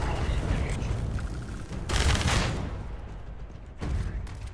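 Explosions and gunfire in the space video game Starfield, with a loud burst of blasts midway and another sharp boom near the end over a continuous rumbling battle background.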